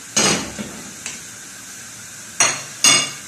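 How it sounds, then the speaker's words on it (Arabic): Spoon stirring tomato sauce with garlic in a pan on the stove, heard as a few short scraping clatters spread across the clip with quiet gaps between them. "هقلبها بقى، هي قربت تستوي"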